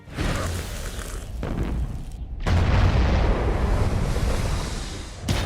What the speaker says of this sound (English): The explosion is as much as you'd expect